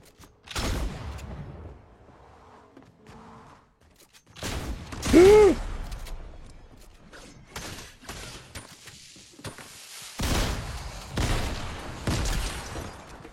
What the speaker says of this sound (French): j'ai l'impression que c'est une mitraillette